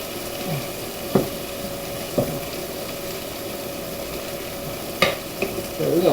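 Salisbury steak fries in gravy in a pan, a steady close sizzle broken by occasional scraping stirs and clinks.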